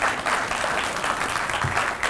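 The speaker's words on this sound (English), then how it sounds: "can you give them another round of applause?" An audience applauds presenters at a Māori education project gathering, giving a brief, dense burst of clapping throughout with faint voices mixed in.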